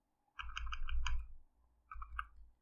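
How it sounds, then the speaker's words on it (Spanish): Computer keyboard keys are tapped while entering values in Blender: a quick run of about five light, close clicks, a pause, then three more. "después tecleo enter"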